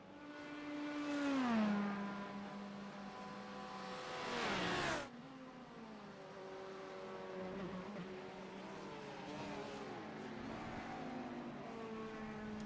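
Porsche race cars lapping Imola in a racing video game, engines revving and shifting through gears as cars pass close, with one loud whine cutting off abruptly and others droning on steadily behind.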